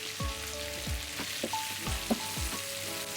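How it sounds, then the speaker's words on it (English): Paneer with peppers, onions and diced tomatoes fries in a pan over a high flame, giving a steady close sizzle with a few soft knocks of stirring and no talk. "fry these on a high flame for about a couple of minutes"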